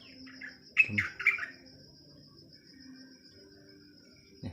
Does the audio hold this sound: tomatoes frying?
no